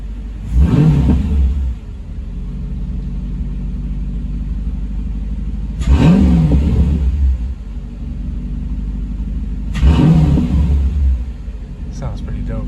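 Three separate throttle blips from a Mercedes C55 AMG V8 engine with a custom cold air intake rise sharply and fall back to a low, steady idle rumble, spaced about four seconds apart.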